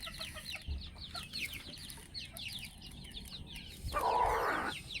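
Several chickens cluck and chatter nearby in a steady, busy murmur, with a brief burst of rustling near the end.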